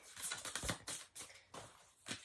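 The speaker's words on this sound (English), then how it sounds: "So let's have a little shuffle and see." Tarot cards shuffled by hand, giving a few quiet, brief papery riffles and slaps in short bursts, close by and soft, with no voices.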